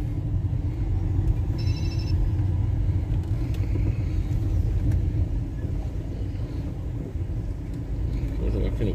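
Car rolling slowly into a parking space at a business lot, a low steady engine rumble close by from inside the vehicle, with a brief chime partway through and someone talking over it.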